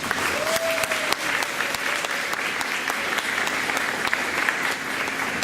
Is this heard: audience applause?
yes